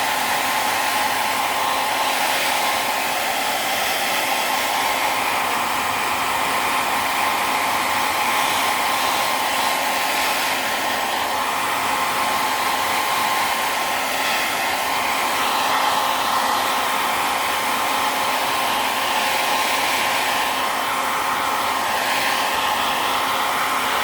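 A hair dryer blows steadily to dry paint on an art journal page, a constant loud whirring hum that runs unbroken and alone throughout.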